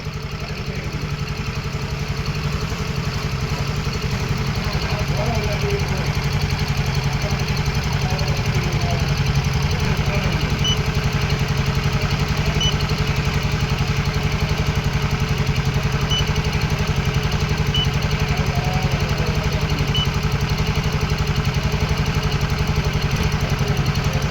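A BS6 motorcycle engine with an injector O-ring problem idles steadily, a constant close mid-pitched hum with faint ticking, unchanging throughout and no voices.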